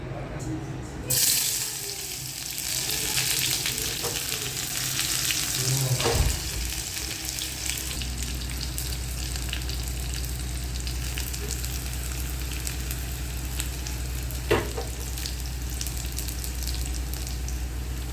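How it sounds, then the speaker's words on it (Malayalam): Steady, loud sizzling of shallots, curry leaves and dried red chillies frying in hot oil, continuing without a break, with a brief clatter early on. "ചെറിയുള്ളി കറിവേപ്പിലയും കായ്മുളകും കാച്ചി വയ്ക്കും"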